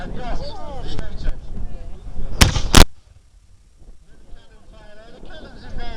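People talk at an American Civil War re-enactment, then a single sharp, loud blast from a 12-pound Napoleon cannon bursts out, followed by a brief hush before voices resume.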